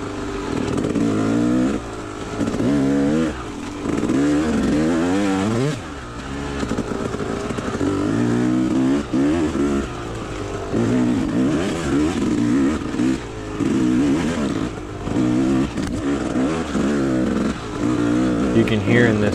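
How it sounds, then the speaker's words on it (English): A motorcycle engine revs in surges, the pitch climbing and dropping repeatedly as the rear tire slips over rough ground at Lead Belt Park, Park Hills, with occasional clatter. "You can hear in this stuff the revs of my motor just going up all of a sudden."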